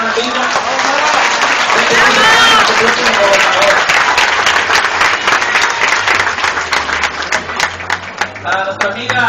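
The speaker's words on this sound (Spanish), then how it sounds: "Quiero pedirles que también demos un aplauso a nuestra amiga Mayra de la demarcación 4, una gran amiga." Audience applause at a political gathering addressed by a PRI deputy, a steady, loud wash of clapping from a large crowd that holds for the full stretch and thins slightly toward the end.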